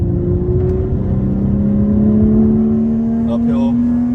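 A BMW G30 540i's engine drones steadily right after a downshift from fifth to fourth on a winding mountain road, its pitch climbing slowly as revs build, with a voice speaking over it.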